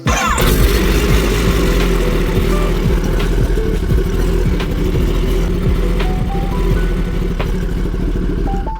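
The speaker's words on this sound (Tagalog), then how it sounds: "Kita nyo, the bike is running na." A Kawasaki ZX-10R motorcycle engine cranks, fires and settles into a loud, close running idle with revs rising and falling. A few short tonal beeps sound over it and nobody speaks.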